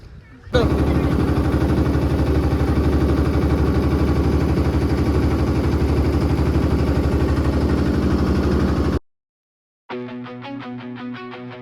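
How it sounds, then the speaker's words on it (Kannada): A motorboat engine at Honnavar, Karnataka, drones loudly and steadily for several seconds, then cuts out abruptly before voices are heard. "ಬೋಟು ಮೂವ್ ಹೋಗ್ತಾ ಇದೆ"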